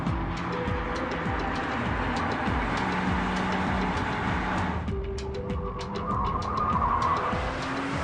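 A Porsche 911 Turbo engine roars continuously at speed, its pitch rising and falling through gear changes, loud and close, with no voices.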